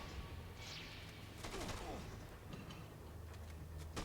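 Gunfire in the zombie video game Dead Rising 2, a few sharp shots cracking over a constant dense background of game noise and rumble.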